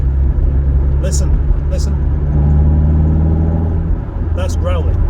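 Growly engine note from an MG TF 135 sports car while driving, a deep steady rumble inside the cabin with firm road noise, two short brief noises over it, no speech.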